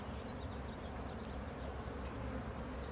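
Honey bees buzz in a dense, continuous drone during a spring hive inspection, a steady swarm-like hum filling the clip without talk.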